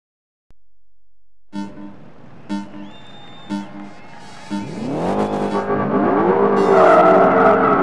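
Ford Shelby Cobra GT500 in the video game Project Gotham Racing 3 on a London circuit: a few short engine blips at idle, then a loud rising rev as the car accelerates away, engine tone climbing and holding steady.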